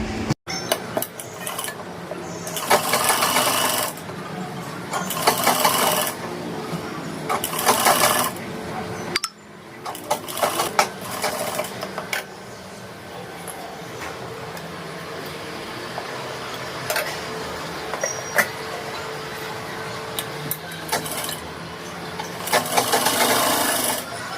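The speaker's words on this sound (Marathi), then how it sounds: "इथं पाच नंबरची शिलाई मारून घ्यायची" Sewing machine stitching the lining of a princess-cut blouse made of thin net fabric with double lining, running in several bursts of rapid needle chatter separated by pauses and handling noises.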